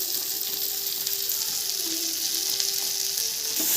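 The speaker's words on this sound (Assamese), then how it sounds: "এইখিনি এতিয়া ভালদৰে লৰাই ল'ব" Steady loud sizzling of chicken curry ingredients with spices and butter masala frying in a pan, close and continuous throughout, with faint stirring scrapes beneath.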